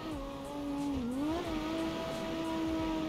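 A Toyota Supra MK4 drifts in the CarX Drift Racing video game, its engine holding a steady high-revving drone with a brief pitch dip and rise, close and continuous throughout.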